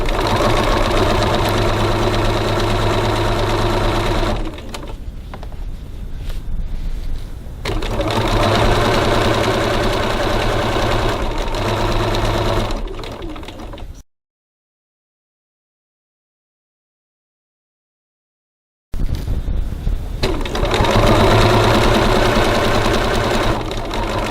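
A domestic sewing machine runs in steady bursts while stitching piping, stopping briefly for a back stitch, then falls fully silent before starting up again close and loud.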